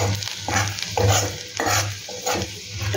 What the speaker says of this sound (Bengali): রসুন কুচিটা একটু ভাজা হোক, রসুনের এটা কাঁচা ভাবটা একটু যাক, বাটারে ভাজা হবে।